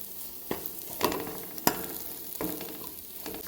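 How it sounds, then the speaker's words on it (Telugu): Ginger garlic paste with chili powder fries in oil for a meal maker masala curry, giving a steady close sizzle. Sharp scrapes from stirring break in every second or so. "ఈ అల్లం వెల్లుల్లి పేస్ట్ పచ్చి వాసన పోయేదాకా ఫ్రై చేసుకోవాలి"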